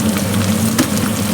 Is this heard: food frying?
yes